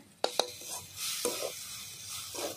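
Leafy drumstick greens being stirred in a frying pan, with a few sharp scrapes of the utensil against the pan over a soft, steady sizzle, close and fairly quiet.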